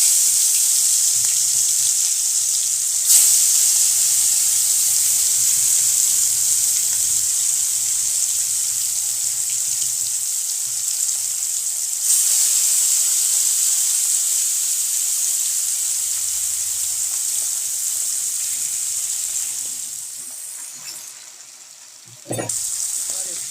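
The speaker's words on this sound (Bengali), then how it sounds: "এই মাছগুলোকে এখন তেলের মধ্যে সোনালি করে ভাজবো" Fish pieces frying in hot oil in a kadai give a loud, continuous sizzle that holds steady, briefly surges twice as more is added, then drops and ends with a sharp clink.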